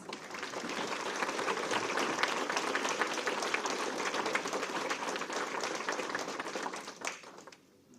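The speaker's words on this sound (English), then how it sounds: "Let's have a round of applause." Sustained applause from a room full of people, steady clapping for several seconds before fading out.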